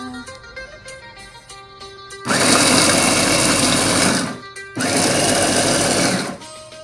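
A loud electric grinder whirs in two long bursts coarsely grinding fermented fish, separated by a brief pause, with a quieter mechanical hum before it starts.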